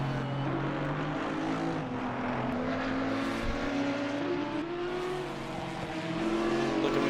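GT4 race cars, a Ginetta and an Audi, lapping Circuit Catalunya in a racing video game, their engines droning steadily with rising and falling pitch as they hold speed, continuous and fairly close throughout.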